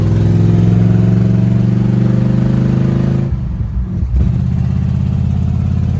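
The engine of a 1966 GMC truck with a rough carburetor runs loud and close, a steady low rumble with a short drop in the middle before it picks back up.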